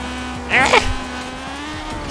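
Race cars in the Forza Horizon 4 racing game launch with a short burst of tire squeal over a steady engine drone, loudest for a moment early on, then settling back to a constant hum.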